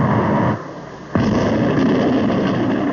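Atomic cannon, a large artillery piece, firing a single heavy boom that cuts sharply out of a dull background rumble, followed by a sustained loud roar and reverberation.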